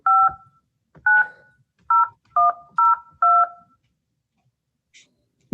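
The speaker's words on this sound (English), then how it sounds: "Please dial the 7-digit phone number of the person you wish to speak with." Someone dials a phone number on a touch-tone telephone into an automated line, producing six crisp dual-tone beeps in an uneven rhythm, each loud and close, followed by near silence.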